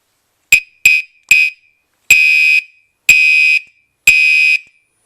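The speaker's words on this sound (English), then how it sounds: "the strobe and the horn, so here we go." A Gentex Commander 3 fire alarm horn with strobe blasts a harsh, piercing electronic tone: three short bursts, then three longer half-second blasts at even intervals, loud and close with silence between.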